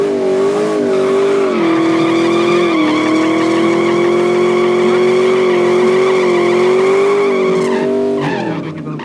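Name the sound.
Cherokee and Porsche racing in a drag race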